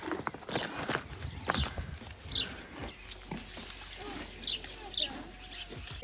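A small horse walks near a village in the Caucasus mountains, its hooves clip-clopping in a loose, uneven rhythm close by, with bird calls scattered over the outdoor background.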